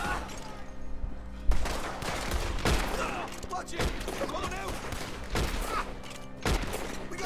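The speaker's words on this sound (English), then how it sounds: "Pull out big boy shotgun or whatever this gun is" Shotgun blasts and other gunfire ring out in a Red Dead Redemption 2 shootout with outlaws, loud repeated bangs spaced through the scene over game ambience, with a voice talking now and then.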